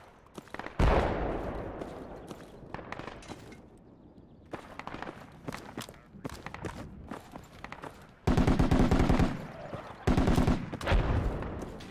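Machine gun fire in the Project Reality military shooter, irregular single shots and short bursts, then loud sustained rapid automatic fire in two long volleys near the end, close and sharp.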